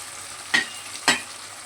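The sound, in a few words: onion paste frying and stirring in a pan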